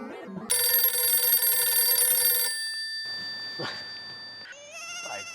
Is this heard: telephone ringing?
yes